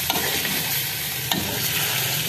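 Coarse Hyderabadi tomato chutney of boiled, peeled tomatoes frying in a pan while being stirred, a dense steady sizzle with scraping strokes and one sharp clink partway through.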